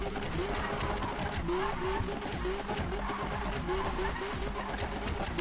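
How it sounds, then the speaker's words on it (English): A car drifting in the Need for Speed racing game lets out a sustained tire squeal with wavering pitch over a constant engine drone, steady and moderately loud without a break. "Let's fill the nitro with some drifting."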